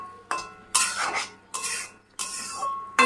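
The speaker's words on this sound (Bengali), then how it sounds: "দেখো, বাটা মশলাটাকে দিয়ে ভালো করে কষাচ্ছি আমি" Ground spice paste being stirred and fried in a pan for a curry with egg, pointed gourd, soya chunks and chana dal. About five close, scraping strokes of a spatula come in a steady rhythm over a faint sizzle.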